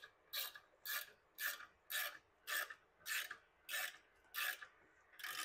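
A wrench turns a threaded insert into the neck of an acoustic bass guitar, producing nine evenly spaced rasping, scraping strokes of metal biting into wood, close and fairly quiet with short pauses between.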